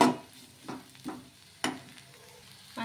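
Bitter gourd fry being stirred in a pan, a few distinct close scrapes and clacks of the spatula against the pan over a faint background, quiet between strokes.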